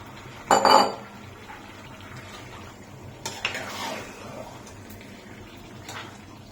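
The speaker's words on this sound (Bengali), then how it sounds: "নাড়াচাড়া কষ্ট হয়ে যাচ্ছে আমার, এতগুলো মাংস পাতিলে কি ধরবে?" Meat being stirred in a cooking pot too small for the large amount produces a couple of clanking scrapes of utensil on metal, with softer shuffling in between.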